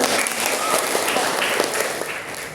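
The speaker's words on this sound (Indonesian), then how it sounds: "tepuk tangan untuk Mas" A room of participants applauds after a role-play exercise in an education coaching session, dense continuous clapping from many people that holds steady, then eases slightly at the end.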